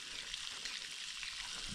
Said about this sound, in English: Another set frying there.